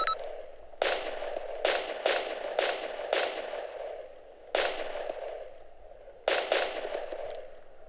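Gunfire in the video game Arma 2: sharp rifle shots crack out singly and in quick pairs, moderately loud over a steady low battlefield hum, with irregular gaps between shots.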